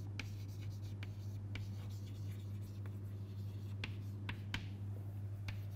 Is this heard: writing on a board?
yes